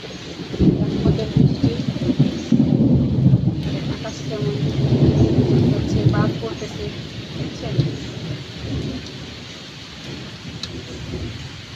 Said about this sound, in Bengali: বিদ্যুৎ চমকাচ্ছে আকাশে আল্লাহ চাইলে কিনা পাবে দেখুন বৃষ্টি পড়তেছে